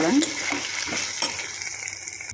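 Meal maker soy chunks fry and get stirred in a pan, producing a loud, steady sizzle with spatula scrapes and clatter close by, without speech.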